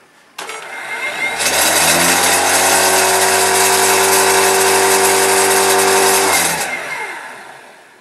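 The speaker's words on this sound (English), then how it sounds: "So we'll spin it up to full voltage" An electric flywheel motor driven through a Split-Pi UDIO6025L power controller winds up to full voltage with a rising whine, holds a loud steady hum, then spins back down, heard alone.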